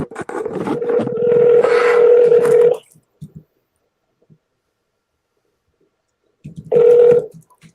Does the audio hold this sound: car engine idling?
no